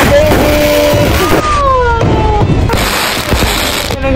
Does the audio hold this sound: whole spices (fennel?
no